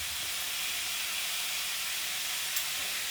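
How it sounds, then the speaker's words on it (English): Vegetables sizzle on a hot chargrill for a tuna salad, a continuous close hiss that holds level throughout. "Just going to turn it over and grill the other side"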